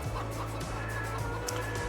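Chickens cluck in a steady, close jumble of short calls, with a low rhythmic hum underneath.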